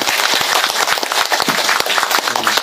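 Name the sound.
audience applause welcoming a speaker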